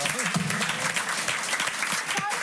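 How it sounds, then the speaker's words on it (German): Studio audience applause on a German late-night talk show: a dense, even burst of clapping from the crowd, with a voice briefly audible over it. "Dein Applaus!"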